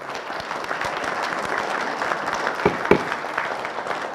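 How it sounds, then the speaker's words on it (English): Audience applause in a city council chamber, a steady wash of many hands clapping at moderate level with a couple of louder claps standing out near the end. "Please hold your applause."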